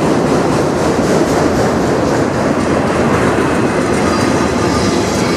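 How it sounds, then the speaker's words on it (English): A CN freight train hauled by locomotives 2265 and 2573 rumbles past close by, a loud steady roar of rolling wheels with faint rhythmic clicking over the rails. "this is one short train"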